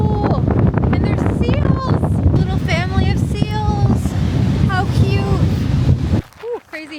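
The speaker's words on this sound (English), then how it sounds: "it is so windy out. I'm not sure if you could hear it." Strong wind buffeting the microphone at Admiral's Arch on Kangaroo Island, a loud continuous rumble under people talking and calling out excitedly, dropping away abruptly near the end.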